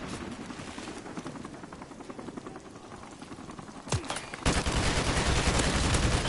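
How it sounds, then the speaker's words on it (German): An allied helicopter in the video game Call of Duty Modern Warfare Remastered thrums amid dense bursts of gunfire, with the noise swelling louder and fuller toward the end. "Verbündeter Hubschrauber auf dem Weg."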